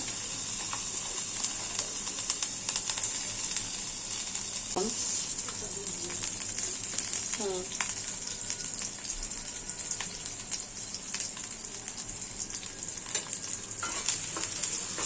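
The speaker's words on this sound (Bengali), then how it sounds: "পেঁয়াজ দিয়ে দিলাম।" Onions sizzle in hot oil in a wok, a bright, constant frying hiss with occasional stirring scrapes, and a voice murmurs faintly at times.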